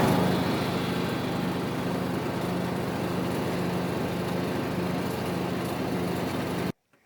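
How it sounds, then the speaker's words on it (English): A riding lawnmower engine runs steadily at a constant drone close by, then cuts off abruptly just before the end. "with the lawnmower, I can come up here, and with the new chains on the tires,"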